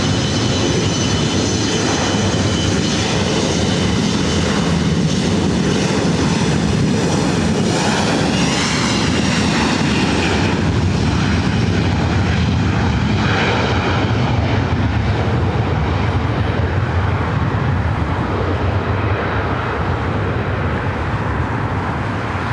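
A Delta Connection SkyWest Embraer E175 jet takes off from LAX runway 24 right, its engines a loud, sustained roar that swells and then slowly fades as it climbs away.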